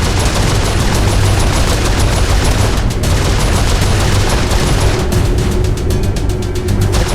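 Turret gunfire in the video game Saints Row IV, a dense continuous fusillade of rapid shots that is loud and unbroken, with a brief dip and a sharp burst of shots near the end.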